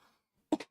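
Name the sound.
throat clearing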